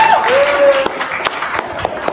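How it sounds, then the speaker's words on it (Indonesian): Brief applause from a university audience, a burst that quickly thins into scattered individual claps, with a faint whistle-like tone at the start. "Tepuk tangan dulu untuk UIN."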